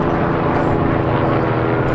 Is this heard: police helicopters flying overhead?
yes